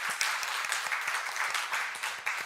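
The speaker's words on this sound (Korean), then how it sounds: "우리 박수로 한번 축복하겠습니다." A church congregation at a Sunday afternoon service clapping together in a brief burst of applause, dense and fairly close, with individual claps audible in the mix.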